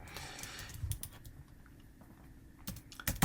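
Quick bursts of clicking keystrokes on a computer keyboard while text is entered into a field, close and fairly quiet, with short pauses between clusters of taps and no talking.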